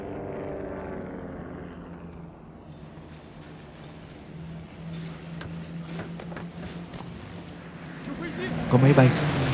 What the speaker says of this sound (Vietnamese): Có máy bay.